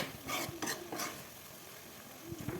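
Eggplant curry being stirred in masala and oil in a pan, with soft scraping strokes of a spoon and a light sizzle, fairly quiet and close.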